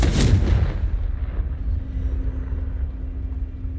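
A Confringo blasting spell explodes in Hogwarts Legacy, a loud booming blast up front that decays into a long low rumble and fades over a few seconds.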